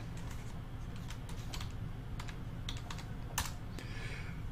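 Typing on a computer keyboard during a live stream about CPU breakout boards: faint, scattered key clicks in short irregular runs over a steady low background hum.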